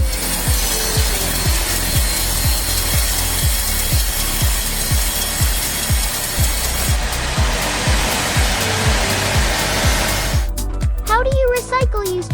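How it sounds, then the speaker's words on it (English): A giant automatic bandsaw machine cuts thick logs into precise boards, giving a steady loud grinding roar with a regular pulsing rhythm, then a shift in tone and a brief higher whine near the end, with music or voice over it. "They use a giant automatic bandsaw machine that efficiently cuts thick wood into precise sheets."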